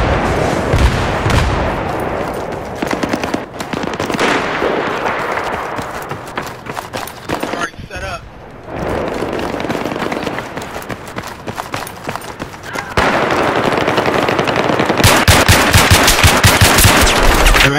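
Sustained, loud machine gun fire rattles almost continuously in multiplayer Battlefield 3 combat, with dense bursts of automatic gunfire and explosions close by, and little break in the barrage.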